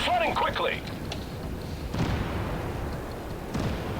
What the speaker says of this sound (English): He's shooting me because I got the kill.